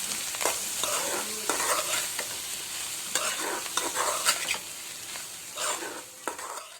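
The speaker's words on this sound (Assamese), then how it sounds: "মই এতিয়া কম স্পীডত ভাজি থাকিম।" Eggplant pieces and fish roe fry in a pan over low heat while a utensil stirs them, giving repeated scraping strokes over a continuous close sizzle.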